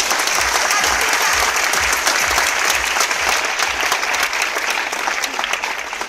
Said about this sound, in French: on va quand même lui faire un tonnerre d'applaudissements